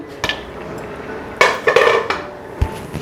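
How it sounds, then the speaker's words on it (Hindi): Metal lid lifted off a cooking pot of simmering black chickpea curry, with several sharp clanks and scraping rattles of metal on metal, loud and close, separated by short pauses. "ढक्कन को हम उतार लेंगे"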